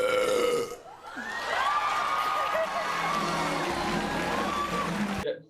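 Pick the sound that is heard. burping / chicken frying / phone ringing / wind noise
burping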